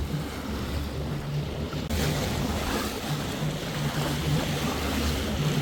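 A jet ski runs across Lake Tahoe, its engine a steady low drone mixed with rushing water, splashing waves and gusts of wind buffeting the microphone, with no talking.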